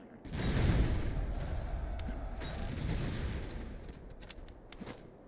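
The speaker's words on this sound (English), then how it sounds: "All right, grenadiers, fire." Massed musket volleys from grenadiers on a battlefield in the strategy game Master of Command, a loud rolling rumble of overlapping shots that swells and then fades, with sharper crackles near the end.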